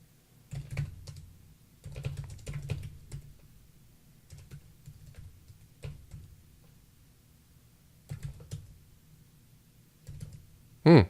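Keys on a computer keyboard are tapped in short bursts with pauses as a format command is typed during a firmware update, ending in one louder keystroke for Enter.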